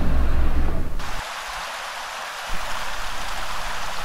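A river flowing right beside a shady campsite gives a steady, close rush of running water, loudest at the start, then settling into an even, continuous flow with no voices.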